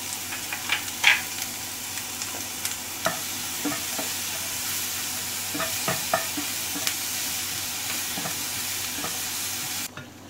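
Kulcha stuffing seasoned with chili flakes and salt sautés in a pan, a steady sizzle with repeated scraping stir strokes and clicks, close and alone without talk.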